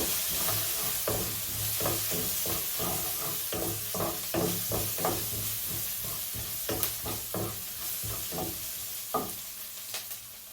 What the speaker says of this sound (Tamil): சீரகத்தை போட போகிறேன் வதங்கட்டும்